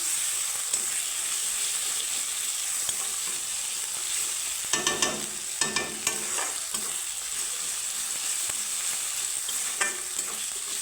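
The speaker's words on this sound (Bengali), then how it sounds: "চেরা কাঁচা লঙ্কা তো আদা রসুনের গন্ধ যাওয়া অব্দি আমি একটু ভেজে নিচ্ছি" Slit green chillies with ginger and garlic paste sizzle steadily in a pan for a Katla fish curry, a continuous frying hiss with a few brief clatters of stirring midway, no talking.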